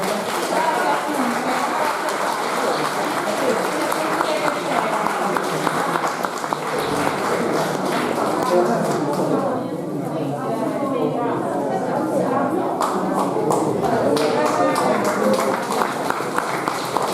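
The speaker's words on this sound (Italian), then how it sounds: "un applauso." An audience applauds a prize winner at a singing contest in Orune, Sardinia: a dense, steady patter of many hands clapping for the whole stretch, with crowd chatter mixed in.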